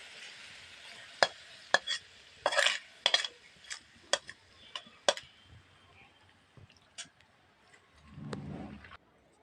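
Garlic and raw green mango pickle stirred in a pan gives scattered sharp metallic clinks and scrapes of a spoon against the pan, then a short soft sizzle near the end, with no talking.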